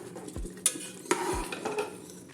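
Jackfruit jam (chakka varatti) being stirred in a large pressure cooker over a low flame: a spoon scrapes and knocks against the metal pot, with a few sharp clinks over a soft, steady background.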